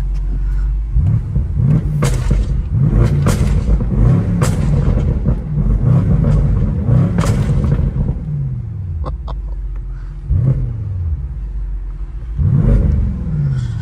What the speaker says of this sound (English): Give you guys a little bit of revs.